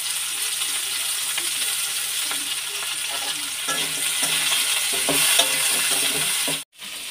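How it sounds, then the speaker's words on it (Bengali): Potatoes and bitter gourd fry with onion in a pan, giving a steady close sizzle broken by scraping stirs and light utensil clinks, with a brief drop-out near the end. "এতে শুধু পেঁয়াজ দিয়ে আলু উচ্ছে দিয়ে ভেজে দিলাম"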